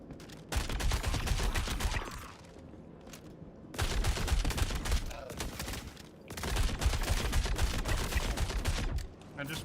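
Three long bursts of sustained automatic gunfire in Star Citizen, loud and dense, separated by quieter gaps with faint background sound, with some voices present.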